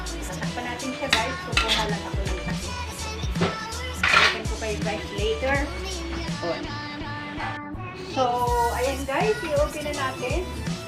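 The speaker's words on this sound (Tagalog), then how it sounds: "Tatakpan natin siya guys. Kukuha lang ako ng takip." A metal pot lid clatters as it is picked up and set onto a cooking pot of taro leaves simmering in coconut milk, with repeated close clanks and scrapes of cookware in a home kitchen.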